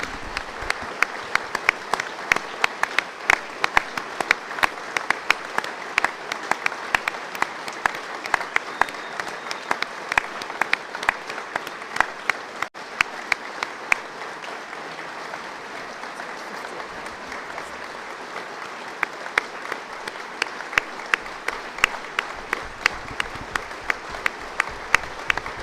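A stadium crowd at a women's rugby union match gives a minute's sustained applause, a steady dense patter of many hands clapping, fairly distant and continuous with no speech over it.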